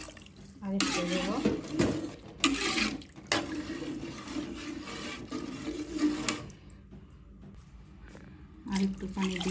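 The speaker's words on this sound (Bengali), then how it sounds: "আর একটু পানি দিয়ে দিলাম।" More water is added to a pot of fried rice and lentils, bursts of splashing pour mixed with pot and utensil clatter, pausing between pours in a quiet kitchen.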